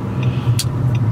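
A car drives along, heard from inside the cabin as a loud, steady low engine and road rumble, broken by a couple of faint clicks.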